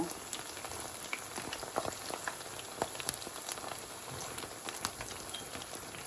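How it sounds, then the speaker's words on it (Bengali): Pumpkin flower fritters frying in oil, giving a continuous soft bubbling sizzle with scattered pops and crackles, close and steady throughout without talk. "কুমড়ো ফুলের বড়াগুলোকে একটু উল্টে পাল্টে ভালোভাবে ভেজে নেবেন"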